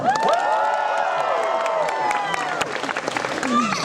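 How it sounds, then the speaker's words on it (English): Applause and cheering from an audience at a live reading in Disney California Adventure, with excited shouts and whoops layered over clapping that thins slightly toward the end. "Everyone applauds slightly more."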